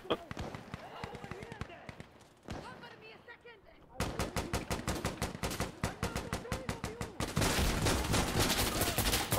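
Gunfire in Insurgency Sandstorm: sparse shots under talk, then sustained rapid automatic bursts with evenly spaced cracks, ending in dense continuous firing; loud and close, with players talking.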